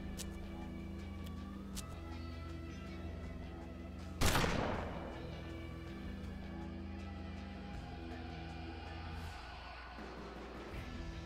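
A single sharp gunshot in the Hard West video game, loud and sudden against a steady bed of low music and ambient game sound, with a short decaying tail.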